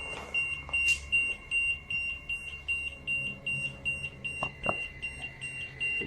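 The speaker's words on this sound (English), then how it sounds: "they get another active reading on their EMF meter" An EMF meter beeps with an active reading while moving through a dormitory, giving a steady high-pitched electronic tone with repeated short pulses, fairly faint against background noise and footsteps.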